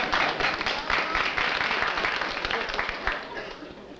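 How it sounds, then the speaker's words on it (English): A 1950s studio audience applauds at a comedy quiz show, a dense, moderately loud wash of clapping that gradually tapers off. "I hear a lot of people applauding."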